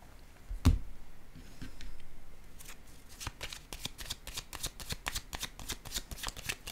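Tarot cards handled close up: a soft thump as one is laid down, then a rapid run of crisp riffling shuffle clicks, quiet and alone without talk.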